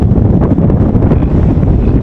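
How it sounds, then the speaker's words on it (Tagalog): Strong wind buffets the microphone in a continuous roar near the big waves off Romblon, steady and loud for the whole stretch with no one speaking. "lakas ang hangin"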